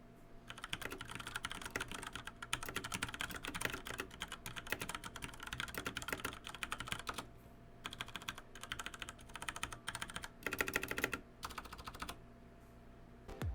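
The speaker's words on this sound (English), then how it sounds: "here's a quick sound test of the Cherry MX Clear on the WASD Code keyboard" Cherry MX Clear switches on a WASD Code mechanical keyboard, rapid close clacking keystrokes in dense bursts with short pauses between runs, no voices.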